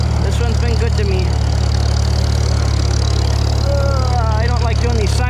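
An old Farmall M farm tractor engine runs with a constant low rumbling hum, close by, as someone speaks at the start and again near the end.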